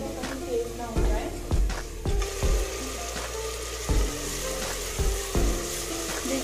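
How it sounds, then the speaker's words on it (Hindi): Masala spices fry in a pan with a steady low sizzle, broken every second or so by soft knocks and scrapes of stirring. "जब ये मसाला बहुत अच्छे से भून जाएगा ना"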